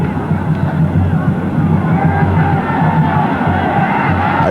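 Corinthians supporters roaring in a football stadium during a Copa do Brasil 2005 match against Sampaio Corrêa, a loud, steady mass of chanting and yelling voices filling the space.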